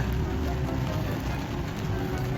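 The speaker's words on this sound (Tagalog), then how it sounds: "Ang lakas ng ulan." Steady, dense hiss of heavy rain pouring without a break, loud and close, with a low rumble underneath.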